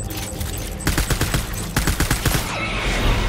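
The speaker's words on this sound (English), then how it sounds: "Taking fire." Rapid gunfire from a firefight in the video game Death Stranding rings out as loud, dense bursts of automatic shots in two clusters, close and sharp, with no talking.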